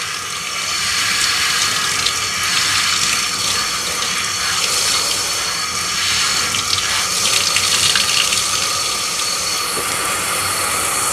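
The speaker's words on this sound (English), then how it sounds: "Rinse until the water is completely clear." Tap water running steadily as soap is rinsed out of a Bissell PowerGlide Pet vacuum filter, a continuous close hiss and splash with no talking.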